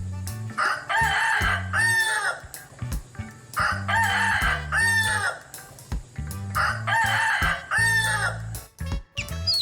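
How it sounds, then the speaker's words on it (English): Domestic hen making loud clucking, cackling calls in three repeated bursts with short pauses between, close and clear over a low background hum, no talk. "H-E-N. Hen."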